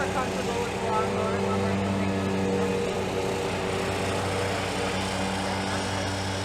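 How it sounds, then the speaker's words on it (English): A lawn mower runs nearby outdoors, its steady engine drone holding even and unbroken throughout with no pauses or revving. "Not super comfortable with the lawnmower."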